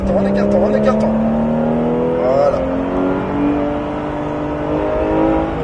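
A Porsche GT3 engine climbs in pitch as it accelerates on the Pôle Mécanique Alès race track, heard loud and close from inside the car, its rising note interrupted by a gear shift, with a voice speaking over it.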